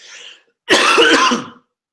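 A single harsh, raspy cough from a man recovering from a bad flu bursts out nearby, preceded by a faint breathy sound and followed by silence.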